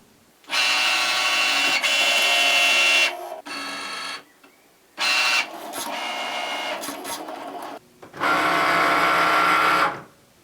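A fabric cutting machine cuts face mask lining fabric on a cutting mat, whirring in three loud bursts of mechanical motor and carriage noise separated by short pauses, close up with no voices.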